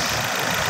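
A Ford Ranger 2.2 engine with a clutch problem runs steadily through a short stretch, a close, loud mechanical drone with a faint knocking texture and no talk over it.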